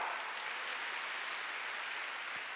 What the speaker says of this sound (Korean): 하나님께 박수 치란 말이야.